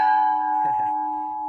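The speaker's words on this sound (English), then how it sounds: "there's this new bell" A new church bell at St. Catherine graveyard in Kentucky rings with a clear, sustained metallic tone that hangs and slowly fades, close and loud, with a faint brief murmur in the middle.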